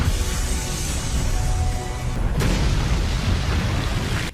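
A crystal explodes in the animated series Swallowed Star, heard as a loud, sustained roaring rumble with a sudden burst partway through, and no voices.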